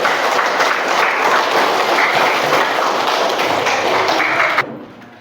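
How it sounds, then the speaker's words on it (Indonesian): A class claps for a student group after a school science project on making coconut-shell briquettes. The clapping is loud, steady and dense, then cuts off abruptly near the end. "Tepuk tangan untuk kelompok 3."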